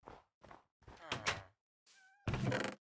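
A cat in the Minecraft video game meows in a few short, close bursts, separated by brief silences and mixed with soft thunking game sounds.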